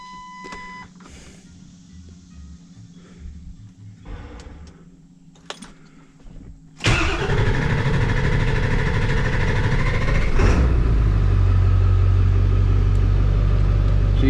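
An old car engine that has sat unused for three years stays quiet at first amid a few faint clicks and ticks, then cranks and catches abruptly, running loud and steady, its tone shifting deeper as it settles.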